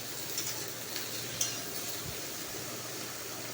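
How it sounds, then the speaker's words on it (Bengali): Eggplant pieces frying in a little oil as they are stirred, a close, steady sizzle with a few light scrapes and taps of the spatula against the pan. "তেল দেওয়ার পরে বেগুন দিয়ে দিলাম।"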